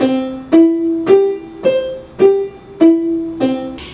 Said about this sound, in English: a strong attack on a set of notes or one separate note.